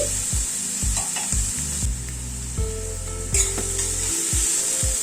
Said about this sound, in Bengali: গ্যাসের ফ্লেমটাকে কমিয়ে দিয়ে পেঁয়াজটাকে একটু ভেজে নিচ্ছি